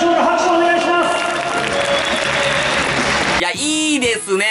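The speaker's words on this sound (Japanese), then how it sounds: "皆さんいかがでしょうか。 拍手お願いします。" Dense applause from a big crowd of Hanshin fans at Koshien Stadium, steady and loud for about three and a half seconds before fading as a voice begins talking.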